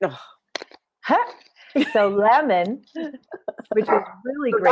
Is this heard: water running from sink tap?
no